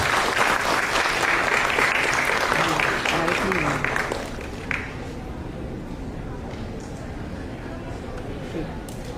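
An audience at an Institute of Actuaries of India event claps steadily for several seconds, then the applause thins out and fades to scattered claps and room noise.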